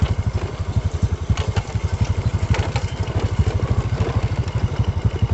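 A motorcycle idles close by at a garden at the foot of Mount Seulawah in Aceh, its engine thumping in a fast, even low rhythm that stays loud and steady throughout, with no voices.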